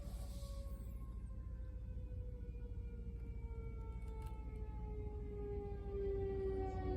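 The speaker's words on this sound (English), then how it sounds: "Can't help the siren to go by." An emergency siren passes outside an auto body workshop, its long wailing tones sliding slowly downward, faint and distant over a steady low background rumble.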